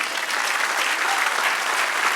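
A church congregation breaks into loud, steady applause, a dense wash of many hands clapping together without pause.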